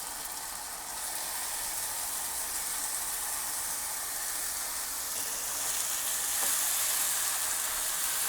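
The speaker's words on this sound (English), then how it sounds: "Look at that sizzle." Marinated chicken sizzles and fries steadily in a pan, a dense continuous crackling hiss that swells slightly toward the end, with no talking.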